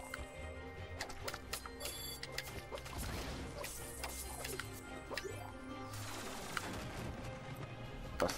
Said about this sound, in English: Busted through that ceiling